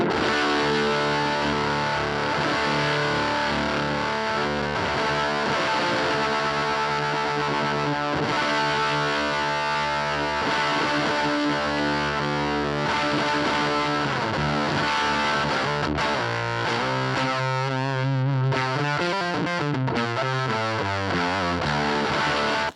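An electric guitar chord rings out heavily distorted and fuzzy through a KHDK Unicorn Blood 2 fuzz pedal, sustained for a long stretch, with the tone shifting abruptly near the end as the pedal's switch is flicked.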